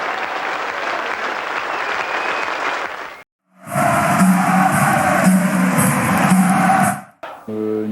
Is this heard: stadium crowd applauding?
yes